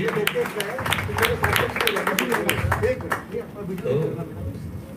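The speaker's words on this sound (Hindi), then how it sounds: "जोरदार तालियां बजाएं बस संजय भैया के लिए" Audience at a devotional bhajan gathering breaking into applause, a dense burst of clapping that fades out, with voices talking over it.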